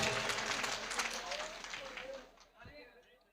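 Audience applause welcoming a poet at an all-India mushaira, loud dense clapping that tapers off over a few seconds and fades into quieter room noise.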